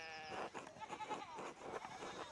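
A sheep bleats in the video game Pentiment in a drawn-out, wavering cry over a steady background hum, fairly faint.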